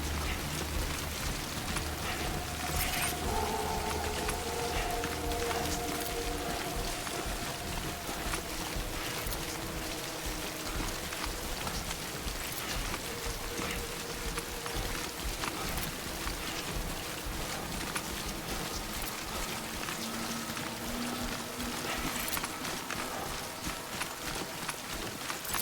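Rain falls steadily in the video game Death Stranding, a faint continuous patter with clopping footsteps and low droning tones underneath, no voices present.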